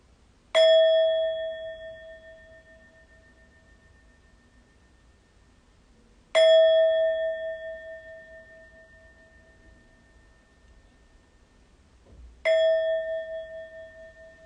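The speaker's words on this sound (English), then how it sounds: "So I'll ring the bell a couple times, and then we'll begin." A meditation bell rung three times at even intervals, each strike a clear, close ringing tone that decays slowly into near silence before the next.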